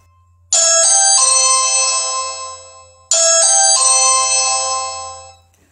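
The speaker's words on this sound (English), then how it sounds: "And now listen to it with the chime." A Ring chime plugged in indoors rings twice for the Ring doorbell, each time a loud, bright multi-tone electronic melody that starts sharply and slowly fades before the next.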